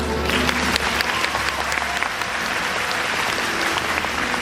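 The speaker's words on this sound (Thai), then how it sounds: "ขอเสียงปรบมือกับพวกเขาได้ไหมครับ" Steady audience applause fills a fan event for a series' final night, dense and continuous at close range with a low hum underneath for the first two seconds.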